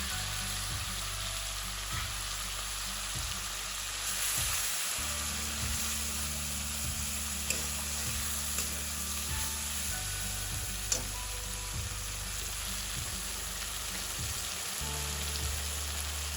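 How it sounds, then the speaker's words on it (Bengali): Ground spice paste sautéing in a pan for Bengali dhokar dalna, a steady nearby sizzle with intermittent scraping and clinks from stirring over a low background hum. "এটা এবার আমি আস্তে আস্তে কষতে থাকবো।"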